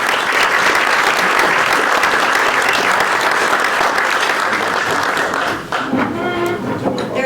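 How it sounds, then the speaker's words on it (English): Loud, sustained audience applause for board members at the dedication of a center at an arts and crafts school, dense clapping that fills most of the seven seconds before thinning out near the end. "So please join me with a round of applause for these great board members who are here with us."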